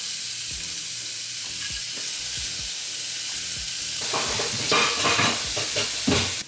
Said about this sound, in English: it's on like medium high heat, so I'll fry this bacon